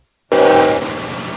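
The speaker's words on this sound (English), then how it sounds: "The train's here." A train horn blasts suddenly and loudly near a high school homecoming football game, a sustained chord-like tone that holds steady after its abrupt onset, with no talking.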